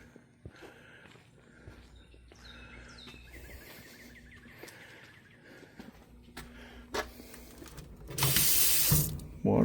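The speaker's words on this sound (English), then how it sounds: "Water's on." A sink tap in a men's bathroom runs amid scattered footsteps and clatter, then the water comes on full as a loud, hissing rush near the end.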